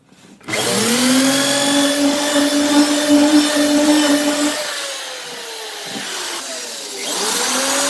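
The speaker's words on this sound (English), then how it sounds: "I'm going to use this here bit to make little divots." A power drill with a metal bit presses small divots into the metal walls of a 10x12 shed, one loud, sustained close whine that dips in pitch partway through and then rises again.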